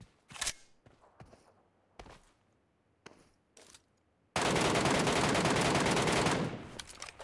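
MK gun fired in PUBG Mobile: a few separate sharp shots with pauses between, then a dense, loud burst of rapid automatic fire lasting about two seconds before cutting off.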